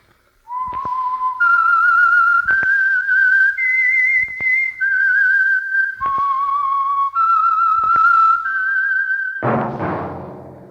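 A person whistles a slow melody, each clear note held before stepping to the next, loud and close, ending with a brief burst of noise.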